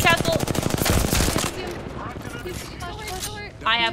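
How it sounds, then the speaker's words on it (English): Rapid bursts of gunfire in Apex Legends, a fast rattling volley up front, then quieter scattered shots, with a player talking over the action. "Three shots on Newcastle."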